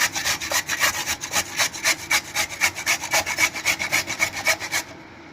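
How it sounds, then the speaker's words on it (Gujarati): Peeled carrots are grated finely for pizza, a steady, rapid rhythm of close, rasping strokes that continues for several seconds before stopping abruptly, with no voices. "આપણે આ ગાજરને છાલ ઉતારી લીધી છે આપણે આ રીતે આમાં ઝીણું ખમણ કરી લેવાનું છે"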